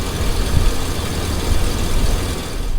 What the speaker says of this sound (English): But listen to that 6-liter purr.